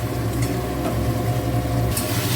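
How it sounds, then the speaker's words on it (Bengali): Spice paste and amra, a sour hog plum, fry in a pan for a fish-roe korma, giving a steady close sizzle with faint stirring scrapes. "মশলাটা কষানো হয়েই এসছে আর একটু কষাবো এবং তার সাথে আমরাগুলো কষে যাবে সুন্দরভাবে"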